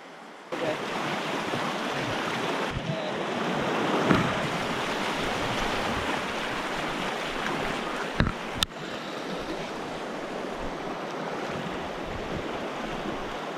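Steady broadband rush of river water on a single barbless-only trout river in winter, continuous and fairly loud for the whole stretch, with a couple of brief knocks partway through and no talking.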